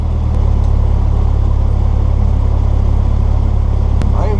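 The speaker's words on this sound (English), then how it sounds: "The engine has been started." A steady, loud engine drone with a low rumbling hum, like a small propeller aircraft idling nearby, with no talking.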